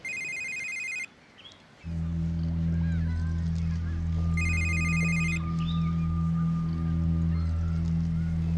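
A telephone rings twice with a trilling electronic bell, separated by a pause, while a low steady hum and faint background sounds continue underneath.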